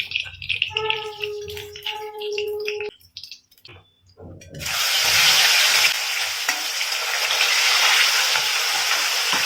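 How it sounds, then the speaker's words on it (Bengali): Sar puti fish fry in hot oil in a pan, a loud, steady sizzle that starts abruptly after quieter kitchen clatter and briefly harmonic noises, then continues evenly close by with no speech. "মাঝারি ভেজে মাছগুলোকে তুলে নিচ্ছি"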